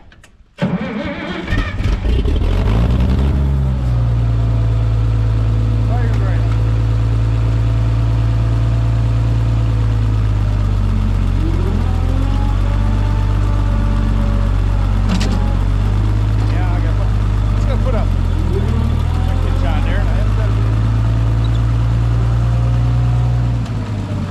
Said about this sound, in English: It's a really good running tractor.